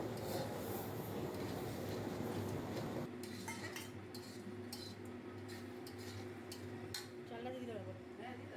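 Fried mung dal is stirred with spices in a pan while cooking khichuri. A steady frying hiss comes first, then scraping strokes and light clinks of a spoon against the pan, close and fairly quiet.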